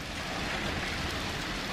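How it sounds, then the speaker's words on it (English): Hail comes down hard outside a house, a dense continuous patter and hiss, steady and fairly quiet with no talk. "Oh, it just started hailing."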